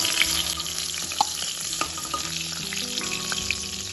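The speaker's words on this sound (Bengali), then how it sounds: "ভালোভাবে এটাকে 2 থেকে 5 মিনিট ভেজে নেব।" Pointed gourd pieces fry in hot oil with a steady, dense sizzle and small crackling pops, heard close and alone.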